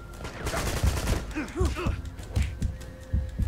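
Bursts of gunfire in the video game Uncharted 2: Among Thieves, a fusillade of repeated cracks and thuds at moderate volume, rapid shots clustered irregularly, with a voice talking.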